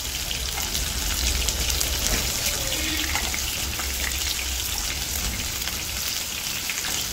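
Chili chicken pieces frying in hot oil, a steady dense sizzle with soft bubbling that holds evenly and fairly close throughout, with no voices.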